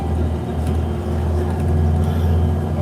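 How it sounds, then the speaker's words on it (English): Loud, steady diesel engine drone inside a TTC city bus during a ride, a continuous low rumble with no voices. "I'm getting very relaxed by the sound of this diesel, and it's extremely loud"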